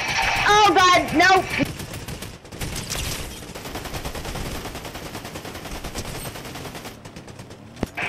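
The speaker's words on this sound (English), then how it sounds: "Shots fired!" Bursts of automatic gunfire from the video game Fortnite crackle through the mix, rapid and loud in places, while a player shouts excitedly over the action.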